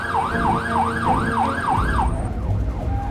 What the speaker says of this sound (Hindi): साइरन ऑन करो जल्दी